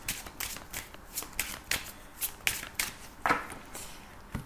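Tarot-style Lenormand cards riffle-shuffled in quick repeated bursts, close and crisp, with no talking.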